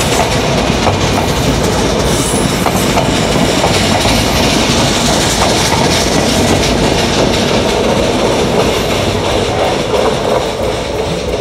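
A train rolls loudly and close past a neglected railway station in Bangladesh, with continuous clickety-clack of wheels on rails and a faint squeal, and no voices.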